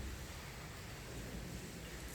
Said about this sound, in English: You cannot see, but it has been raining outside very well.